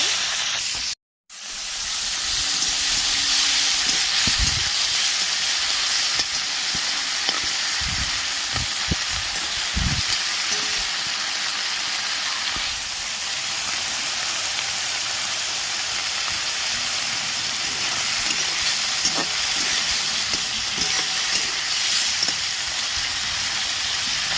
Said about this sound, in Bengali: কড়াই তেল গরম হয়ে গেছে মাছগুলো আমি ভেজে নেব